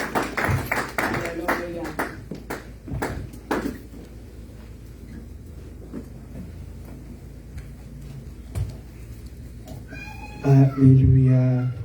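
A church congregation claps, the sharp applause bursts loud at first and then thins out to scattered claps, with a low musical tone entering near the end.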